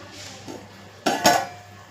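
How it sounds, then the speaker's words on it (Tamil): Metal lid set onto a cooking pot over potatoes in a home kitchen: a faint scrape, then two sharp close clanks in quick succession, without talk. "மூடியை போட்டு இப்போ மூடிடுறேன்."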